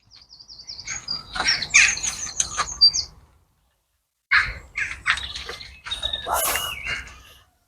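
Crows call around the ruins of Astley Castle in Nuneaton, a busy run of harsh caws and squawks with chirps, fairly close, fading to silence for a moment before another burst.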